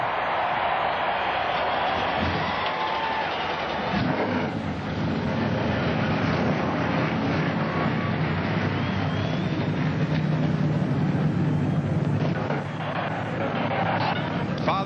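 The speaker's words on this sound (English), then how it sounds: "Gentlemen, start your engines." Field of NASCAR stock car engines firing up together at Michigan Speedway for the 2004 DHL 400, a dense, steady roar filling the whole stretch with a brief swell midway.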